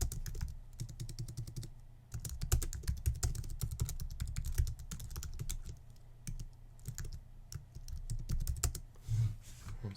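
Rapid typing on a computer keyboard, dense close key clicks in quick bursts with brief pauses, steady throughout and with no talking.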